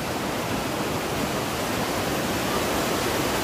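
A waterfall at Mimar Falls roars in a dense, unbroken rush of falling water, steady and close, with no voices.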